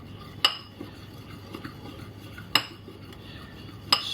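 Eggs being stirred into a keto flan custard mixture in a bowl: soft swishing broken by three sharp utensil clinks against the dish, with quiet stirring between them.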